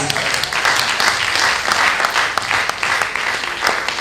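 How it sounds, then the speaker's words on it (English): An audience at a university advisors' workshop session claps together in dense, sustained applause that stays loud and even for about four seconds. "Shall we please give ourselves a round of applause?"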